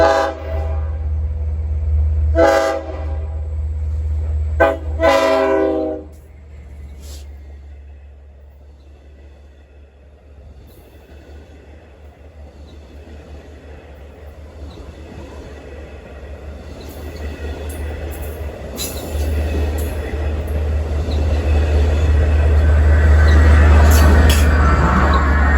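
A Central Branch shuttle train sounds several short horn blasts early on, then its rumble fades and swells again as it rolls past nearby, the low drone growing louder toward the end.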